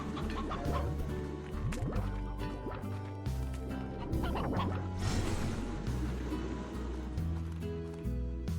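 Chickens in the video game Slime Rancher cluck repeatedly over a looping background music track with soft splashy effects, the clucks scattered throughout.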